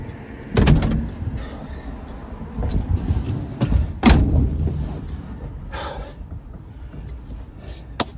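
Someone gets into a 1936 Chevy coupe with a Crown Victoria conversion, and two heavy door thuds land close by, followed by shuffling and rustling inside the cabin, with no talking.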